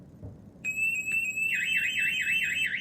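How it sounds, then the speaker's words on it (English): A SimpliSafe home alarm system's panic alarm sounds loud and close, a steady piercing tone that soon turns into a rapid warbling siren, continuous and alone. "I'm about to press the panic button."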